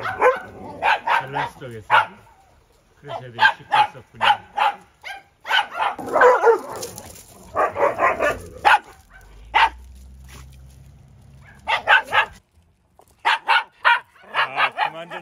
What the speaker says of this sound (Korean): 저기 누가 짖는 소리가 나네요.